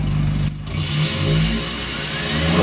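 An Isuzu pickup (Cab 4) with an aftermarket exhaust exiting ahead of the axle revs steadily, its engine note loud and close with a brief dip before rising again.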